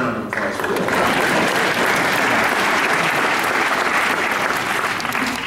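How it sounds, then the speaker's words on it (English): Sustained audience applause, a dense, even roar of many clapping hands that starts abruptly and holds loud and steady to the end. "Let's have a round of applause for that"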